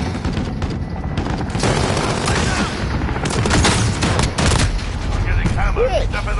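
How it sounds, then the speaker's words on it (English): Machine gun fire in Call of Duty Modern Warfare 2019 multiplayer, a dense continuous roar of automatic shots with booms and explosions mixed in, loud throughout while a player talks over it. "That machine gun."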